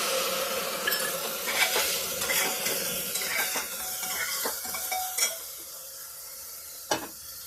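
Spices go into jackfruit curry cooking in a pan and are stirred in, a close steady sizzle with spoon scrapes and clinks against the metal, tapering to quieter frying with a sharp knock near the end.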